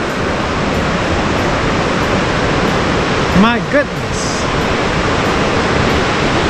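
Broadband rushing river water in a forested reserve in Chile, a steady loud roar throughout, with a person briefly speaking and gasping over it midway.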